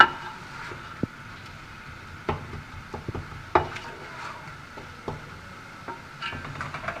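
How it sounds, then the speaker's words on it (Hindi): Keema and spices being fried and stirred in a pan make a low, steady frying hiss, with scattered clicks and scrapes of a spoon against the pan. "कीमे के साथ डाल के हम इसको भून लेंगे।"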